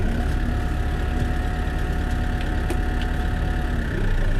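A tractor engine idles steadily close at hand, a continuous low rumble with no change in pace and no voices.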